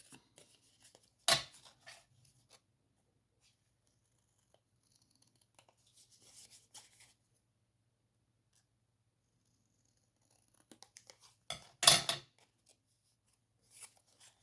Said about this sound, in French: Là, je vais pouvoir couper un tout petit peu plus parce que ça se chevauche